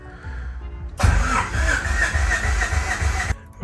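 A Honda Civic EK with a D16A engine cranks briefly, then catches and roars into a loud, uneven idle that lasts a couple of seconds before cutting off abruptly.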